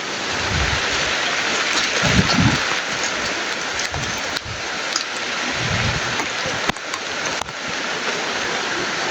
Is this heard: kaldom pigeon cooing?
no